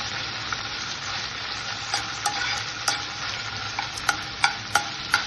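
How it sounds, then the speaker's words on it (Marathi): Crushed ginger, cumin seeds and green chili fry in hot oil in a pan, with a steady close sizzle and sharp scraping clicks from stirring scattered throughout, growing more frequent near the end. "तेलामध्ये छान असं परतून घ्यायचं"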